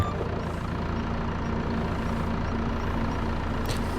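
A tractor engine idles in Farming Simulator 25 with a steady low rumble and a faint tonal hum, continuous and close with no talk.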